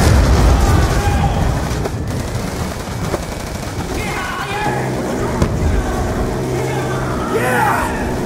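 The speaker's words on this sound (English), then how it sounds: "Grenade, move!" A grenade explosion in Call of Duty Black Ops 2 lands amid loud, continuous gunfire and battle noise, with rumbling blasts and rattling shots close up, as voices shout over the chaos.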